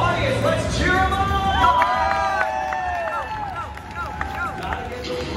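A live audience at the Fear Factor Live stunt show at Universal Studios Orlando shouts and cheers for a contestant, a lively mix of yelling voices and crowd noise with a host talking over it.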